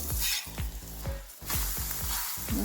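A beetroot and wheat-flour dish sizzles as it roasts in oil in a pan, with crackling frying noise and repeated soft scraping strokes from stirring or turning.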